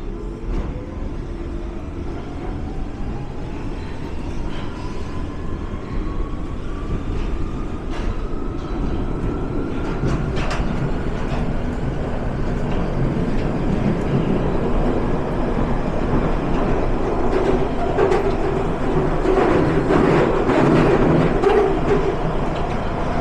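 A London Underground tube train runs between Notting Hill Gate and Queensway. The loud rumble is continuous, with wheel clatter and a rising whine as the train speeds up through the tunnel.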